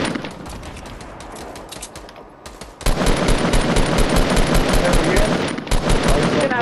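Rapid automatic gunfire from a video game firefight crackles in dense, loud bursts, quieter at first and then sustained and intense, with players talking over it.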